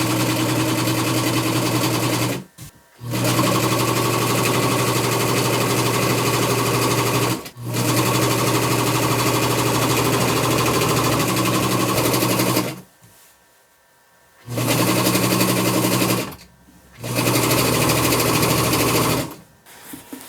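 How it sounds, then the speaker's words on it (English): A sewing machine stitches fabric for an upcycled summer dress, running loud and close in long steady whirring bursts with a few short stops between runs. "we're just going to sew it on, just like that, right down here"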